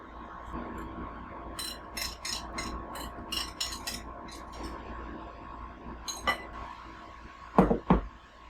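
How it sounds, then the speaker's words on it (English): Eggs go into a bowl of apple pie filling for apple pie bread, with bright glassy clinks and taps of a utensil against the bowl, bunched in short bursts and a louder pair of knocks near the end. "to this apple pie filling, I'm adding the eggs"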